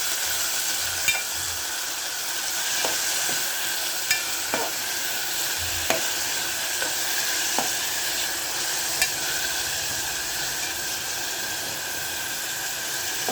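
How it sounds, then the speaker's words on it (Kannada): Sambar ingredients, spinach and onion among them, are stirred in a frying pan: scattered light clicks and scrapes of the spoon over a steady, hissy sizzle, with no voices. "ಇದೆಲ್ಲ ಚಲೋ ಕಲಿಸ್ಬೇಕು."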